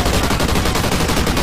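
Automatic gunfire in the video game Call of Duty Ghosts Extinction: a dense, loud burst of rapid shots fills the whole brief moment without letup.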